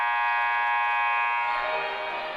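A long, loud electronic buzzer sounds at the end of the first half of a girls' high school basketball game in a gym, holding steady for over two seconds before fading slightly.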